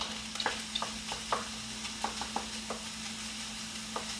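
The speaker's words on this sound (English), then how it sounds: "what I'm doing is I'm spreading it out along the bottom of the pan so it's pretty even" Warm pineapple and rice are spread along the bottom of a pan, with a steady low sizzle under repeated short scraping taps of a utensil at an irregular rhythm.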